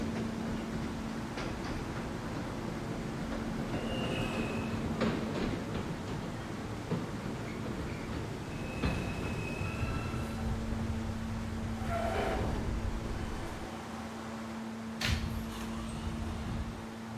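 R160A subway train running in the Roblox game, a continuous steady rumble with a sustained hum and occasional faint squeals and clicks, loud and unbroken throughout.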